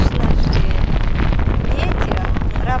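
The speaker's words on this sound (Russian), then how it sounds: "Какие здесь ветры." Strong mountain wind in Calabria roars steadily into the microphone as broad, buffeting rumble that continues without a break, loud and close, with a voice speaking faintly underneath.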